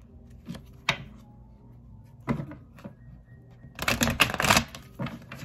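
Tarot cards being shuffled by hand, a few separate crisp riffling bursts early on and then a longer, louder flurry of snapping card sounds toward the end, close up with no talking.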